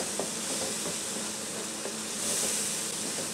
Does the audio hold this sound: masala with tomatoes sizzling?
yes